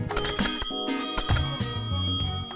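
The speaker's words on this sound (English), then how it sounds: "It has a great bell." A bicycle bell on a solid steel-frame bike made in Munich in 1940, rung in a quick bright series of metallic dings that ring out and overlap, close and loud with no talking.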